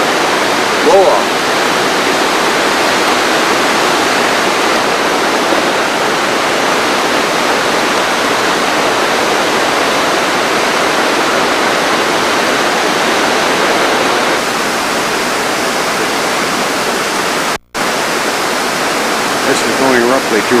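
Water blasted off by 122 pounds of compressed air at the Ragged Chutes hydropneumatic plant makes a steady, loud, broadband roar of rushing spray, unbroken for about twenty seconds apart from one brief dropout near the end.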